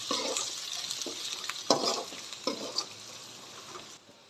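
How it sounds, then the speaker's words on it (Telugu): Ginger and turmeric stirred into frying chicken in a pan for biryani, with a soft continuous sizzle under scattered scraping spoon strokes that stay fairly quiet. "అల్లం వేసుకొని బాగా కలుపుకోవాలి పసుపు వేసుకోవాలి బాగా కలుపుకోవాలి"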